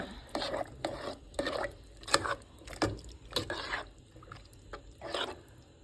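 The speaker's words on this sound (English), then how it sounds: "we're going to take all of this and we're going to mix it" Chili of tomatoes and meat being stirred in a pot, giving a run of repeated scraping, clinking strokes at a steady rhythm, fairly close and moderately loud with no talk over it.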